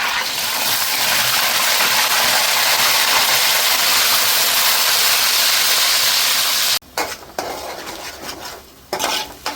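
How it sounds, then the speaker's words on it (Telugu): Onion paste frying in hot oil with curry leaves for a small fish curry, a loud steady sizzle that suddenly drops, followed by scraping stirring and a few pan clatters. "ఆయిల్ వేడెక్కిన తర్వాత కరివేపాకు వేసుకొని తర్వాత ఉల్లిపాయలు పేస్ట్,"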